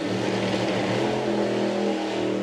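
Pro Modified drag racing car engine running at a steady, loud, buzzing drone with little change in pitch, heard alone throughout.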